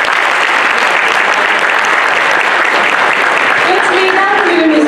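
Loud, sustained applause from a concert audience at a Turkish classical music choir performance, a dense wash of clapping filling the whole stretch without break.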